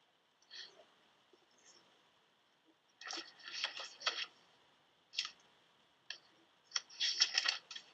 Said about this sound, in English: He's typing everything.